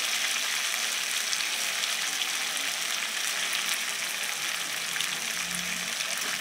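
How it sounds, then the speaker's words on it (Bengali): Egg frying in a spiced masala gives off a steady, dense sizzle and hiss up close, continuous throughout with a brief low rumble near the end. "ডিমটা দিয়ে আর একটু কষিয়ে নেব।"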